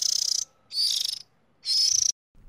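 Baby birds in a cartoon chirp in shrill, high-pitched bursts, three rapid trilling runs separated by short pauses, close and loud with no talking.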